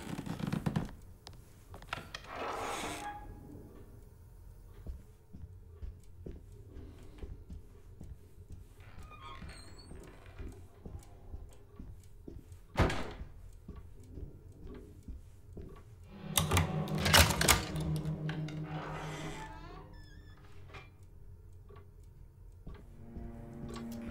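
Typewriter keys pressed in the horror game Alone in the Dark: sparse, crisp clicks and taps, with a louder clatter now and then, over a quiet, eerie ambience.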